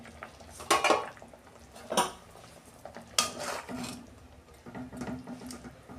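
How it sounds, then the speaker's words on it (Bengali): A metal pot lid lifted off a cooking pot of potatoes on a gas stove, sharp close clanks and scraping rattles in a few separate bursts, no talk. "ঢাকনা খুলছি"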